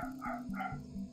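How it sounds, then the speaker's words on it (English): An old dog barks in a steady run of about five short, close woofs at an even rhythm, clear and fairly loud indoors with no voices over it. "Sorry if you can hear him barking."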